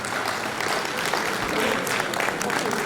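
An audience claps after a talk at a conference, a sustained patter of many hands filling the room at an even level without any voices over it.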